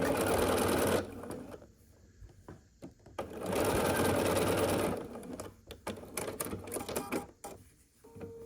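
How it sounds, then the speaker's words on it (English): A sewing machine stitches rows of a scrappy quilt block in two long, loud runs with a short pause between them, then slows into uneven bursts of stitching and handling noise. "and then we're gonna sew the bottom row, which is the same as the top row"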